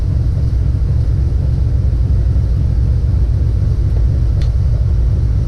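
A Mitsubishi 3000GT VR4 engine idles with a steady, low rumble, even throughout, loud and close, with a faint brief chirp near the end.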